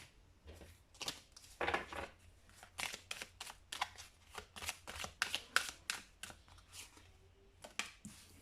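Tarot cards are shuffled and drawn in a quiet room, a long run of soft, rapid riffling and slapping bursts at an uneven rhythm, close and fairly faint.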